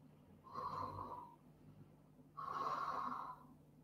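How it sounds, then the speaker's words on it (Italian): Two slow, quiet breaths taken while holding a Pilates bridge, each a soft airy rush lasting about a second, separated by a pause and heard alone in a calm room. "rimaniamo lì a fare due o tre respiri che li sento"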